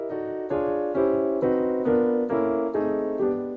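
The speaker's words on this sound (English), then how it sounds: "that's the sound of Diminished Major 7" A single tense diminished major seventh piano chord struck repeatedly, about eight even strikes, each held and ringing, played alone with no talking.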